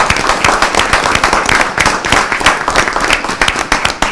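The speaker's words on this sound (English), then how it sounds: "let's give a round of applause for all of them" Audience applause at a city council meeting, loud, close clapping with sharp individual claps standing out over a smaller crowd, continuing steadily without talk.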